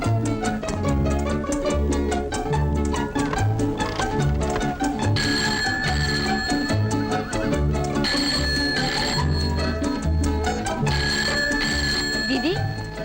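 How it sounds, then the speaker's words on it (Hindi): Telephone bell ringing in a domestic scene, a loud continuous electric ring running steadily throughout with clicking tones alongside. "दीदी, दीदी फोन बज रहा है।"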